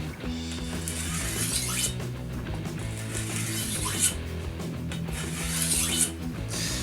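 A machete drawn over the coarse side of a sharpening stone: steady, repeated gritty scraping strokes running continuously at close range, with a couple of sharper rasping peaks and no talking.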